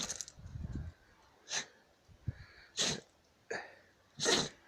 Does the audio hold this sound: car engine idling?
no